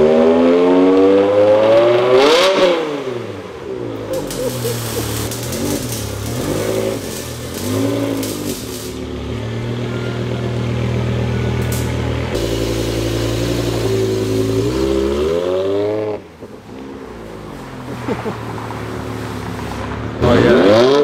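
A BMW M5 V10 engine with straight-piped exhaust revs loudly and repeatedly, high-pitched, rising and falling in sharp screaming bursts with raspy exhaust crackle, close by and continuous.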